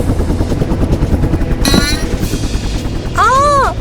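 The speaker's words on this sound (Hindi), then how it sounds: "लगता है कोई हेलीकॉप्टर।" Helicopter rotor thumping drones throughout, fairly loud and close, while people talk over it and a short warbling electronic tone rises near the end.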